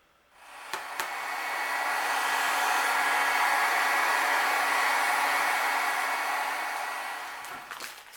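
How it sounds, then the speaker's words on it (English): A heat tool blows steadily for several seconds while setting clear embossing powder on a card, a close, loud airy whir that starts after a click and stops with another click. "I'm going to coat that with my clear embossing powder and heat set it"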